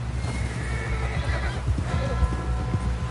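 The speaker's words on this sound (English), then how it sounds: "Someone help John down off this horse." In the video game Red Dead Redemption II, a horse whinnies while hooves clop in a steady rhythm over a dense, busy background, fairly close and moderately loud.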